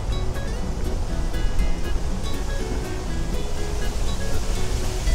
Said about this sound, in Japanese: おお、風が吹いてきたね